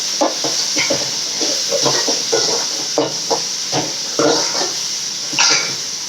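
Onion and tomato sauté in a pan for chicken curry, giving a loud, steady sizzle with a close, irregular scrape-and-clatter of stirring running through it.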